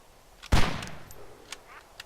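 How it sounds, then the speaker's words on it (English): A single loud sniper rifle shot in the DayZ video game cracks and decays quickly, followed by faint distant clicks and quiet game ambience. "He just logged out as soon as he heard that shot."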